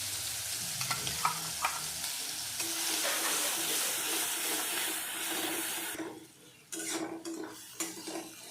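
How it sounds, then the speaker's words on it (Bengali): Spices fry in hot oil in a wok with a steady, faint sizzle, broken by scraping stirs and a few clinks of a utensil against the pan, then a short lull before stirring resumes. "এখন আমি মশলাগুলো দিয়ে দিলাম। এখন মশলাগুলো ভেজে নিব সবার আগে।"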